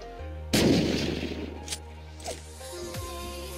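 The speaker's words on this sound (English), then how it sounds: "I should throw these grenades and stuff." A grenade explosion in the survival game Unturned during a metal base raid lands with a sudden loud boom that decays over a second or so, followed by a few smaller thuds and clanks under a steady background hum.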